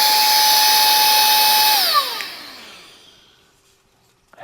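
A HEEBUKE 21,000Pa cordless handheld vacuum cleaner running in blower mode gives a loud steady motor whine and rush of air that winds down and fades out after about two seconds.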